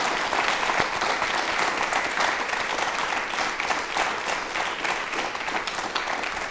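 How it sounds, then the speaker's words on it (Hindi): An audience in a Doordarshan Rajasthan television studio applauds during a yoga talk show. The clapping is steady, full and fairly loud, and it continues evenly for about six and a half seconds. "इनके लिए एक बार तालियां जोरदार बनती है"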